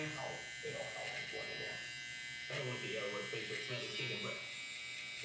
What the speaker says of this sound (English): I'm gonna go ahead and take my trimmer. I'm gonna go ahead and set in my first initial guideline